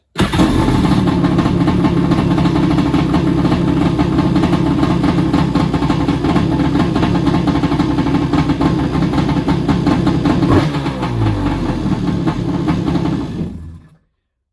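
A Kawasaki round nose Superjet jet ski engine fires up and runs loud and close at a steady buzzing idle for about ten seconds, changes pitch briefly, then cuts off abruptly into silence; no talking.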